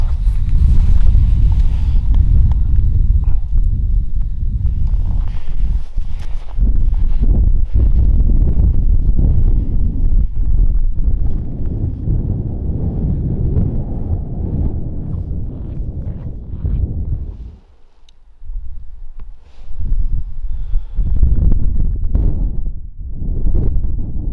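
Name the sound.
wind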